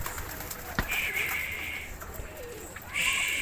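Pigeons coo softly in a coop, with a few low, rolling calls over quiet background noise and a brief knock partway through.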